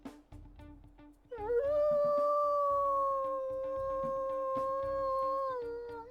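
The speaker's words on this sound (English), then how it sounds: "We'll go ahead and listen to her howls as well." A wolf from the video game WolfQuest lets out a long, sustained howl, rising at the start then holding a steady, clear pitch for several seconds, loud and close over a faint ambient background.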